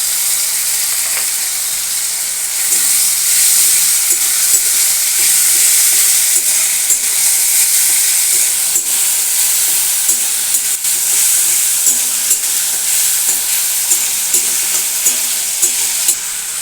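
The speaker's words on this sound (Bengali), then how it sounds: "দেখুন আমার পেঁয়াজগুলো ভাজা ভাজা হয়ে গেছে এরপর এর মধ্যে আমি দিয়ে দেবো আমি টমেটো" Ground tomato paste added to onions already frying in a pan sets off a loud, steady sizzle and hiss that carries on without a break, with faint stirring scrapes mixed in and no talk.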